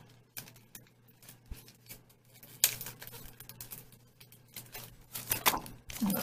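Faint crinkling and tearing of a plastic package of Heidi Swann printed vellum sheets being opened for card making, scattered soft crackles and taps with a few sharper rustles, close and quiet without talk.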